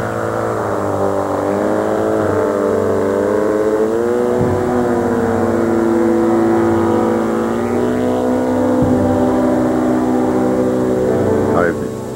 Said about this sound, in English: Though it looks like a helicopter, it's actually called an auto-gyro and flies like an airplane